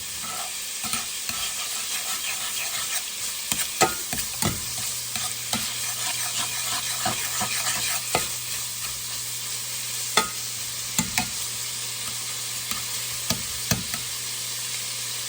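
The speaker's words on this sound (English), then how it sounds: "I'm just reheating it and melting the fat a little bit." Cooked meat reheats in a pan under a steady sizzle of melting fat, while a utensil stirs and scrapes the bottom with periodic sharp scrapes and taps, close up and free of speech.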